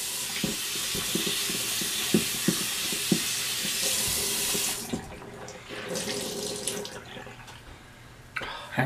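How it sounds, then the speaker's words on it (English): Cold tap water runs into a sink for a rinse after a wet shave. A steady rush with small knocks and splashes fills the first half, then it thins into lighter, intermittent trickling and handling sounds. "Cold water rinse."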